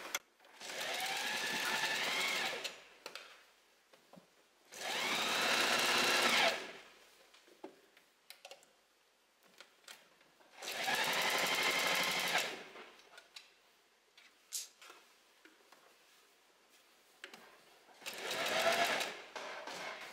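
A home sewing machine stitches a seam allowance onto skirt fabric in four separate bursts of rapid whirring, each a couple of seconds long, with quiet handling clicks in the pauses.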